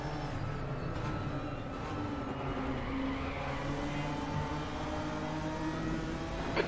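Continuous full-throttle engine roar of a GT4 race car in a racing game at Watkins Glen, a steady droning whine sustained without a break at moderate level.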